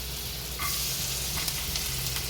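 Chopped garlic sizzling in oil and butter for a stir-fried chicken, a dense, steady hiss that swells slightly as the garlic goes in, with a light stir near the start.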